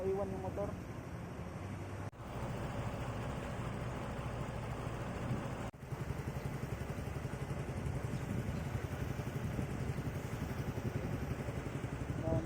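A Raider 150 motorcycle engine hums steadily at a distance amid a busy cargo terminal, a low continuous drone with faint clatter and voices mixed in throughout.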